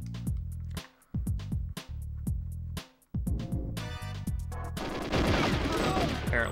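Rapid repeated gunshots from the N64 video game GoldenEye fire in quick bursts with short gaps, building into dense continuous shooting, loud and in the foreground.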